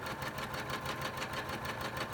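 An embroidery machine stitches the bottom fold line of an in-the-hoop business card holder, a steady, fast, even mechanical whir and needle patter running close and unbroken throughout.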